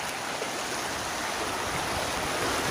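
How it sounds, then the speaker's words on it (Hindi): Waist-deep floodwater rushes between houses past a leaning electric pole, making a steady, loud broadband roar of churning water that never lets up, with no voices. "वो देखिए पानी इस तरफ से जाके घरों को चीरते हुए इस तरफ जा रहा है"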